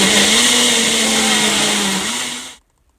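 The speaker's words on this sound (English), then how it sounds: "I'm just going to puree the peppers in the beef broth" A blender loudly purees peppers in beef broth, its motor whirring at a steady pitch that sags slightly under load before cutting off abruptly near the end.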